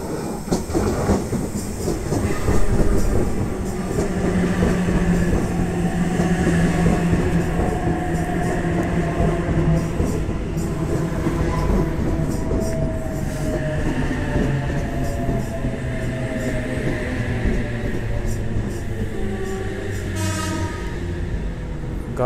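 A New South Wales passenger train pulls into the roadless Wondabyne station, its loud rumble and squealing brakes descending in pitch as it slows and comes to a stop nearby.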